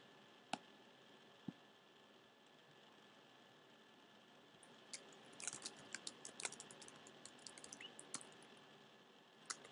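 Keys clack on a computer keyboard as a title is typed, a scattered burst of quick, light clicks close by after a couple of isolated taps, in a quiet room with no talk.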